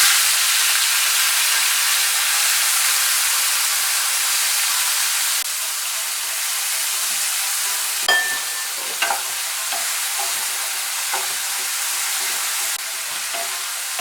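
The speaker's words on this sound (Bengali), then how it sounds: "তেলটা গরম হয়ে গিয়েছে, এর মধ্যে আমি চিংড়ি মাছগুলো ভেজে নেব।" Shrimp rubbed with salt and turmeric sizzle and crackle steadily in hot oil in a pan for a Bengali potol chingri dish, a dense continuous frying hiss with a few sharper pops and spatters partway through.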